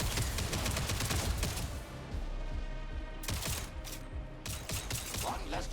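Gunshots from the sci-fi shooter Jump Ship crack in rapid succession over a busy, steady game soundscape, with sharp bursts clustered near the start and again later.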